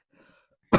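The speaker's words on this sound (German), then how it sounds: "Ich höre, ich muss wieder husten." One short, sharp cough bursts out loudly at the very end after near silence with faint throat sounds, during a Sprite-drinking burp challenge.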